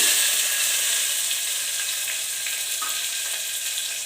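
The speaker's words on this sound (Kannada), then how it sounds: "ಇದನ್ನು ಸ್ವಲ್ಪ ಹಾಗೆ ಫ್ರೈ ಮಾಡ್ಕೋಬೇಕು" Crushed garlic, curry leaves and onions fry in hot oil in a pan for sambar, giving a steady, close sizzle and hiss with faint stirring scrapes and no talking.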